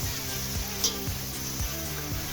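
Ginger garlic paste and shallots sizzling in oil as chicken biryani is prepared, a steady soft frying hiss with occasional stirring scrapes and clinks close by.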